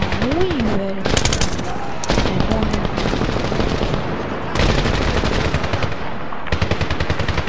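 Automatic weapon fire in the Medal of Honor video game rattles out in loud, rapid bursts separated by short pauses, with in-game tones and effects mixed between the volleys.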